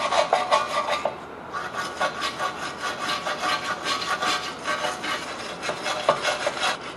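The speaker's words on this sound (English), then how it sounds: "First, we're going to use our wire brush. Go ahead, clean up this area a little bit." Wire brush scrubbing corrosion off the hub mating surface of a Ford Taurus during a rear hub bearing replacement, a steady close rasping scrape in repeated strokes, with no talk.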